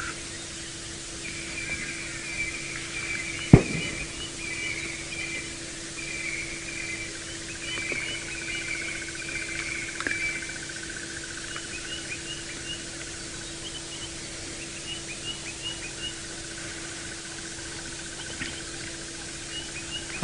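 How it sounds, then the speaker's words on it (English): Birds sing faintly in the distance at sunrise on an African safari drive, repeated thin whistled phrases over a quiet outdoor hiss, with a steady low hum and one sharp click. "A lot of bird song,"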